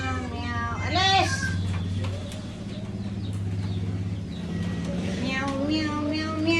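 A cat meows repeatedly in a series of drawn-out, rising and falling cries, fairly close and loud over a low steady background hum.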